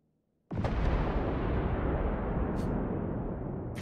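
In the video game Generation Zero, a sudden loud blast bursts out of silence and becomes a heavy, sustained rumbling roar of explosions that fills the rest of the clip.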